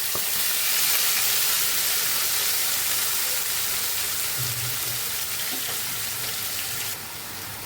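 Spice powders, Kashmiri chili and coriander, hitting hot oil for doi potol, giving a steady close hiss and sizzle that thins out slightly near the end.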